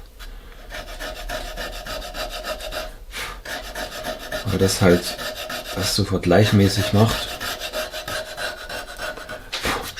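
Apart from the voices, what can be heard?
rasp filing a carved wooden ornament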